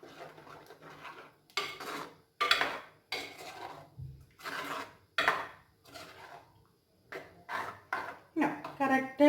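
A spoon stirs and scrapes a thick, sour yogurt-based taro curry in a metal pot, producing close, intermittent clinks and scraping strokes separated by short pauses.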